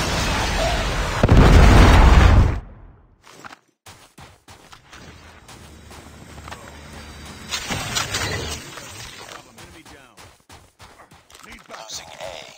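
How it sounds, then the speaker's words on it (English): A predator missile explosion in Call of Duty Mobile on the Icebreaker map: a loud, heavy boom lasting about a second, then quieter gunfire, footsteps and game voice callouts. "Predator missile inbound."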